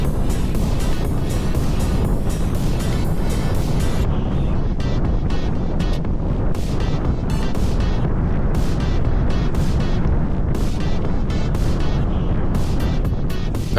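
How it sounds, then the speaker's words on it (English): Steady roaring wind buffeting a microphone on a bicycle descending at speed, loud and continuous throughout, with a broadband rush and low rumble. "the wind gust that caught me on that last corner"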